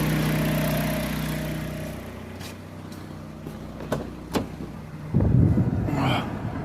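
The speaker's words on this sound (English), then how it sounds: "We're gonna leave it in idle and see if it's not making noises in the future" A Dodge Journey 2.4-liter engine idles after replacement of its water pump, belts and upper water hose: a steady low hum with a few sharp clicks, then a brief, louder rumble near the end.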